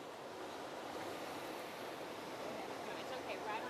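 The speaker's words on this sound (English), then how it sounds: "it is loud over the waves" Ocean surf rolling onto a shore, a steady broadband roar of breaking waves at moderate distance, with faint voices in the background.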